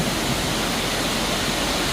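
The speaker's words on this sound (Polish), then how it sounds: "gdzie te białe fale nadchodzą i ma się wrażenie, jak się siedzi nad brzegiem, nad morzem" Waves arriving in a thermal spa wave pool at Besenova, Slovakia: a loud, continuous broadband rush of churning water, steady throughout with no voices.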